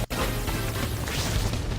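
Flash Cannon move landing in the Pokémon Legends Z-A video game: a dense, loud crashing burst of game effects that fills the whole short moment, with no speech over it.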